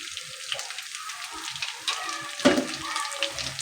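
Mutton fry curry sizzling and crackling in a pan, a steady broadband frying hiss with scattered pops and one louder burst of spatter midway.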